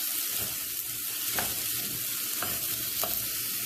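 Prawn roast is stirred in a pan with grated coconut and curry leaves, a constant soft sizzle with occasional scraping strokes of the spoon, close and fairly quiet, with no voices.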